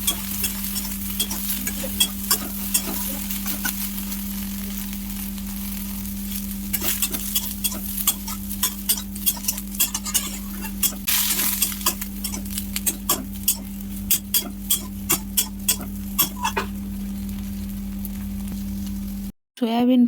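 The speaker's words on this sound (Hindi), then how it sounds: "सेटा सोयाबीन फ्राए करमा।" Soybeans sizzle steadily in hot oil in a home kitchen while a spoon scrapes and stirs them, producing continuous frying crackle with frequent sharp clicks of the utensil against the pan.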